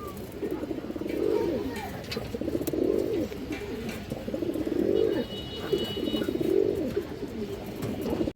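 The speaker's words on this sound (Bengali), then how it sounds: "এক প্যার মুসলদম কবুতর পুরাণ জাতের রোড মাস্টার মুসলদম" Several Muslin-tail (Musoldom) pigeons of an old Road Master line coo in repeated, rhythmic rounds, fairly close and steady, with faint background noise between the calls.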